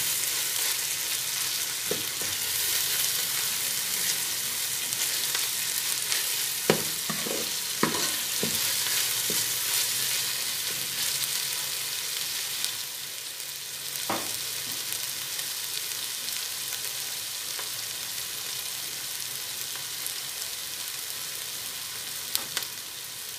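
Onion, ginger and garlic sautéing in a pan for a rice cooker biryani, with a steady broadband sizzle throughout and occasional sharp scrapes and clicks of a spoon stirring, no voices.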